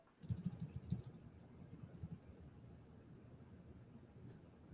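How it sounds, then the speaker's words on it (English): Computer keyboard typing in a quiet room: a quick cluster of soft key clicks early on, then fainter scattered taps fading into low background hiss. "I'm typing in your live right now."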